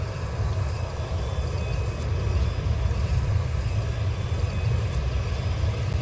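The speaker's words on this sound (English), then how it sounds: "it's the geyser making that noise" A geyser venting on a planet surface in the Elite Dangerous space game, a steady, loud low rumble and hiss that holds unbroken, resembling a ship engine.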